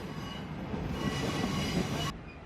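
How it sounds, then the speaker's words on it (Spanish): Metro Valparaíso commuter train pulling out of a station toward Puerto, Valparaíso: a steady rumble of rolling stock and wheels on rail, fairly close and continuous, then cut off abruptly near the end. "Nosotros ahora vemos uno de los trenes saliendo hacia Puerto,"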